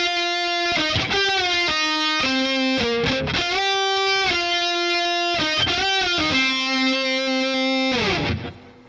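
Distorted electric guitar plays the intro lead part of a song, with sustained bent notes and quick melodic runs ringing loud and close before fading out at the end.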